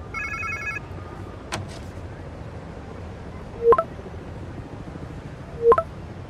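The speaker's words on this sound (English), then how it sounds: "Sounds like somebody's phone." A telephone rings in the Marvel's Spider-Man 2 video game: a brief electronic chirp near the start, then two distinct ring bursts a couple of seconds apart over a low ambient game hum, with no talk.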